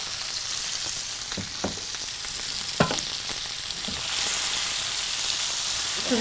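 Stuffed pointed gourds fry in oil in a pan, a steady sizzle broken by several sharp scrapes and knocks as they are gently turned, with the frying growing louder toward the end.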